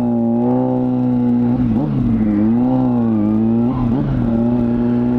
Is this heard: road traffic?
yes